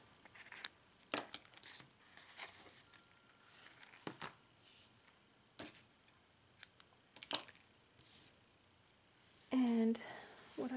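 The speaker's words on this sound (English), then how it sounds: "So just cut some fringe." Scissors snip through yarn to cut fringe for a crocheted gnome ornament, giving scattered sharp clicks and short snips at an irregular pace, close and fairly quiet, with a brief louder rustle near the end.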